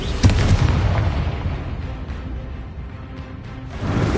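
A booming blast from the Confringo fire spell in the video game Hogwarts Legacy, a sharp initial explosion followed by a rumbling, crackling decay.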